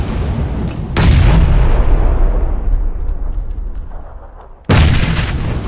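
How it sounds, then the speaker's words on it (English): Grenades explode in an online shooter video game: two loud, close booms about four seconds apart, the first trailing off in a long rumbling decay before the second hits just as hard. "I'm gonna throw my nades up there too."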